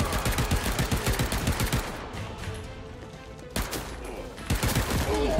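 Rapid bursts of video game gunfire in Paint the Town Red during a D-Day beach assault, with loud overlapping shots in the first two seconds, a lull, then another volley near the end.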